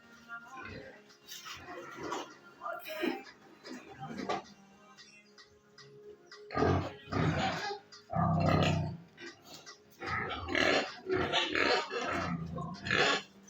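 Pigs on a farm in Liberia grunt and snort in irregular bursts, fairly close, with quieter gaps between the louder clusters of grunting.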